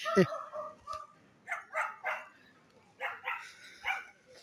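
Several short barks from dogs at moderate distance at a dog festival in Gunma, Japan, spaced irregularly across a few seconds, with no talk in between.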